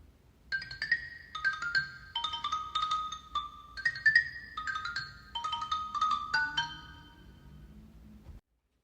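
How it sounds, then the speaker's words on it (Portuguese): A xylophone plays a bright, bouncy melody of quick struck notes, clear and close, ringing for several seconds before stopping abruptly. "Som do xilofone."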